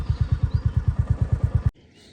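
A motorcycle pulls into a parking area at Pulna village, on the trek route from Gobind Ghat toward Hemkund Sahib. Its engine thumps close and steady in a rapid, even rhythm, then cuts off abruptly, leaving a quiet background.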